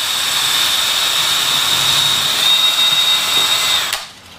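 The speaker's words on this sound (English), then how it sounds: "now what I'm going to do, drill a hole" A power drill whines steadily and loudly up close as it bores a hole into a wooden ceiling joist, then cuts off abruptly near the end.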